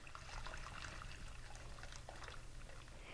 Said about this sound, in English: pour it in to our soup very slowly